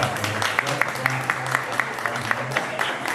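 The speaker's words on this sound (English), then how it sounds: "Yes, y'all can clap." Audience applause at a mental health panel in Los Angeles, steady clapping from a seated crowd with a few sharper claps standing out, a low voice murmuring underneath throughout.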